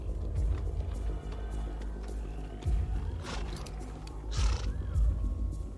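A horse in the Swamps of Sadness gives low, strained snorts and groaning neighs in several bursts, close and loud over a murky background.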